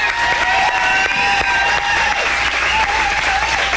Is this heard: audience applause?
yes